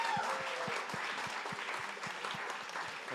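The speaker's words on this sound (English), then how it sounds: "Another round of applause, please." A concert audience applauds steadily on the kick-off night of a cherry blossom festival. The dense clapping runs evenly throughout, with a soft rhythmic low thump beating underneath.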